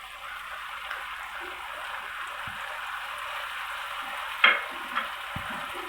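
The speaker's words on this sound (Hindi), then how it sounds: "और हम दही डाल रहे हैं इसमें।" Chicken sizzles steadily in a pan as yogurt is added, giving a low, continuous frying hiss with a few soft stirring knocks and pops.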